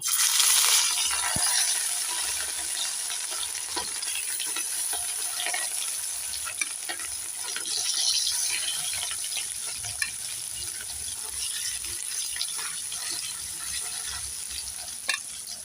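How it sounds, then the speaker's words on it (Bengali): Hot oil hisses and crackles steadily as pieces of fish fry in a pan with fenugreek seeds for Bengali-style fish curry, a dense continuous sizzle with occasional sharper pops. "এবার একে একে মাছগুলোকে আমি তেলে দিয়ে দেবো"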